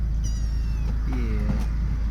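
A cat meows a few short, thin times close by, over a steady low hum, during work on a 2002 Mini Cooper's sunroof.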